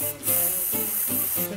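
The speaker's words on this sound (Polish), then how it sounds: "Boję się, że będę zaraz cała w tym sprayu." Makeup setting spray is sprayed in three quick hissing bursts, close and fairly loud, with short pauses between them, during a Halloween makeup session.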